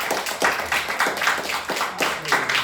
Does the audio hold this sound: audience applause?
yes